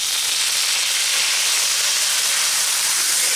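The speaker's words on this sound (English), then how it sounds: "So I'm just going to spray a little bit of water here." Water sprayed onto a hot Blackstone griddle cooking sausages makes a loud, continuous steaming sizzle and hiss that stays steady and close throughout, with no voices.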